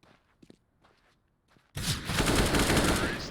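Gunfire in a competitive Counter-Strike match, a loud sustained burst of rapid shots that erupts suddenly after quiet footsteps and small sounds, close and dense until the end.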